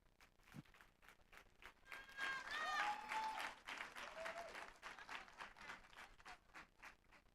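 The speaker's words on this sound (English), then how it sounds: "Let's give another round of applause to Dr. Moleko." A crowd claps loudly at a university public lecture, swelling to a peak and then tapering into scattered clapping, with a few whoops and cheers mixed in.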